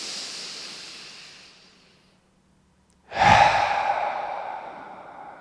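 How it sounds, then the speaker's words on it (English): A deep open-mouth exhale during a yoga breathing exercise, a strong breathy rush that fades slowly, followed by a pause and then another loud, close exhale that tapers off. "Open mouth, exhale. 3 more, in through the nose."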